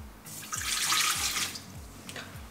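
Tap water running steadily into a container in a home kitchen, a continuous splashing hiss for about a second and a half that then tapers off, close and fairly loud, with faint clicks underneath.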